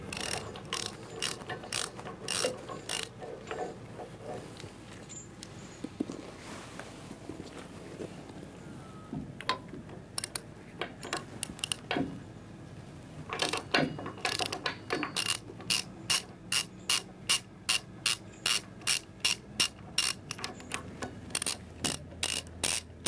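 A hand ratchet clicks in quick repeated bursts while a digging tooth is changed on excavator ground engagement tools with a sidelock system, sharp close metallic ticks that grow steady and rhythmic toward the end.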